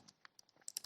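Typing on a computer keyboard while entering Python pandas code, a quiet, close patter of irregular key clicks that grows into a quicker cluster of sharper taps toward the end.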